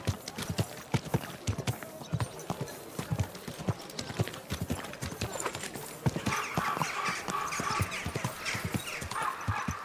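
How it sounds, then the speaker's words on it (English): Horse hooves clip-clop in a close, regular rhythm throughout, with a rougher, noisier stretch toward the end and only faint voices in the background. "Easy, good horse"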